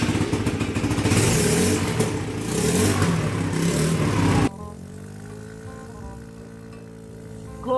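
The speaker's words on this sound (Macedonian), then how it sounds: "Пали моторов." A motorbike engine starts and revs loudly up close for several seconds, then the roar cuts out and gives way to steady music.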